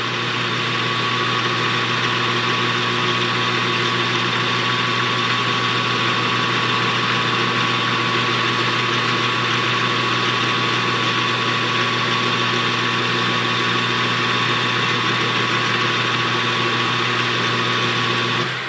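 A steady, loud machine whine with a constant pitched hum runs without a break, like a metal lathe spinning while cutting steel.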